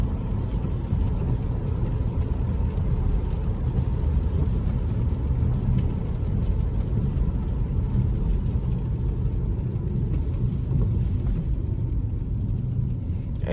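A Chrysler 300 cruises through rain at night, its steady rumbling road and engine noise mixed with the constant hiss of wet tires, loud and unbroken with no talking.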